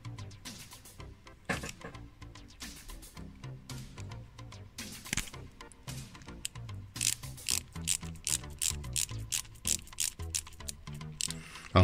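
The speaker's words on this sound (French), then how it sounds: "Et on va visser tout ça" A screwdriver turns small screws into the plastic parts of a KITT K2000 model kit, giving rapid, close clicking and ratcheting ticks with occasional louder knocks of parts being handled.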